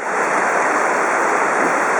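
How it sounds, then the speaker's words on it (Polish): A mountain stream on the trail to the Blue Eye near Theth, Albania, rushes in a steady, loud wash of water close to the microphone, with no voices. "Tutaj płynie strumień."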